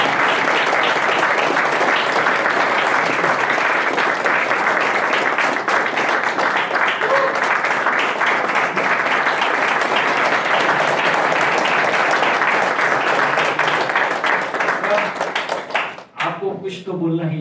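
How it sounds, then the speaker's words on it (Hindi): Loud, sustained audience applause fills a festival talk hall at the Ahimsa Vegan Festival 2023, dense clapping running steadily for about sixteen seconds before thinning out near the end. "जोर से तालियां होनी चाहिए।"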